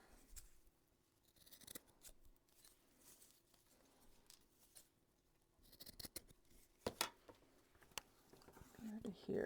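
Scissors snip the end off a strip of lace while a junk journal cover is decorated. Several quiet, close cuts and crisp paper handling come through, with soft talk or whispering between them.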